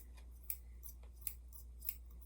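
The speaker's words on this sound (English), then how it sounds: "It's a pair of scissors." A pair of gold-tone scissors with rubber grips being handled, giving three short, crisp metallic clicks spaced evenly over a quiet, low hum.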